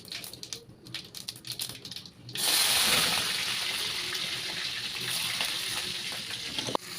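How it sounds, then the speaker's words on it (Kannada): Crushed garlic and dried red chillies dropped into hot oil with popping mustard seeds, a few light clicks and then a sudden steady loud sizzle that continues close up with no talking. "ಸಾಸಿವೆ ಹಾಕಿದ್ಮೇಲೆ ನಮ್ಮಮ್ಮ ಜಜ್ಜಿರೋ ಬೆಳ್ಳುಳ್ಳಿ ಹಾಗೆ ಒಣಮೆಣಸಿನ್ಕಾಯಿನ ಹಾಕ್ಕೊತಾ ಇದ್ದಾರೆ."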